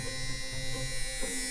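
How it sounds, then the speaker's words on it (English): An electric fabric shaver runs with a steady, close, high-pitched motorized buzz and hum, slight wavering as it moves, continuous throughout with no speech. "a fabric shaver."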